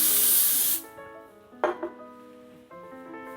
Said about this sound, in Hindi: अपनी मोदी केयर का डीओ, इसका स्प्रे करते हैं